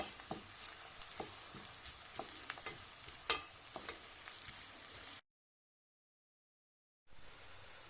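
Peppers tossed into a hot pan and stirred, with a steady sizzle of frying and scraping stir strokes, close and fairly quiet, then a couple of seconds of silence before the sizzling resumes.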